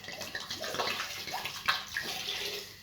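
Red wine pours steadily into an oxtail stew pot over high heat, a continuous splashing gurgle with a sizzling wash behind it, close and clear with no talking.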